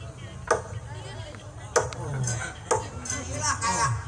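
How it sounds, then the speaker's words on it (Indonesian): Sharp axe blows chopping wood, four distinct whacks spaced about a second apart, heard close with people talking and background chatter throughout. "ngampakin kayu gua."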